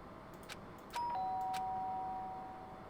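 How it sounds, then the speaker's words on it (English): A doorbell in a video game rings once with a clear electronic chime, a bright tone that holds and slowly fades over a soft background hum. "did I hear the doorbell?"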